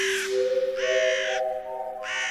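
A cartoon crow from Star vs. the Forces of Evil caws three times, loud and close, with harsh nasal calls separated by short pauses.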